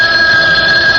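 Old-style telephone bell ringing loudly and continuously in a radio drama, a steady metallic electric ring close by with no talk.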